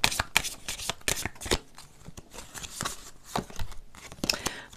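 Tarot cards are riffled and shuffled for a reading in a series of crisp, papery bursts and snaps. The bursts come in irregular clusters at close range with no talk.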